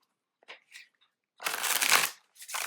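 Tarot cards shuffled by hand, with a few soft flicks and taps followed by a long, dense riffling burst and a shorter second burst, close and fairly quiet with no talk.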